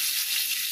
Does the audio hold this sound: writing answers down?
no